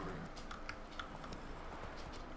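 Faint, quick horse hoofbeats from The Witcher 3: Wild Hunt clip-clop in a light, irregular rhythm, quiet and thin like game audio, with no talking.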